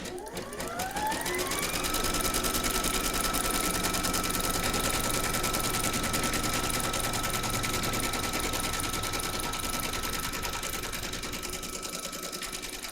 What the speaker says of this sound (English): Pop your hoop into your machine and stitch round number 2 to secure it.